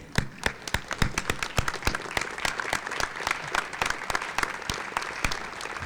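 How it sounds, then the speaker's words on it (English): An audience at a high school senior honors night applauds an award recipient, a dense, steady burst of many hands clapping that fills the room with no voices over it. "And we're going to applaud Olivia Nordu."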